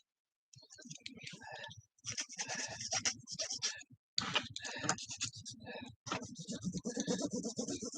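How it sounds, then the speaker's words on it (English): Rapid clicking of keys on a keyboard, in uneven bursts with brief pauses, close by and moderately loud. "You can hear somebody typing"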